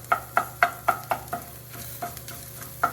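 Fried rice stir-fried in a hot pan, a quick run of rhythmic scraping, tossing strokes over a steady sizzle, close and fairly loud with no voices.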